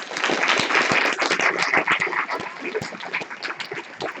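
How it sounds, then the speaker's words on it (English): A group of people clapping together at the close of a gathering, a dense, steady wash of applause that carries on at a moderate level throughout with no talking. "And a round of applause for Kirsten too"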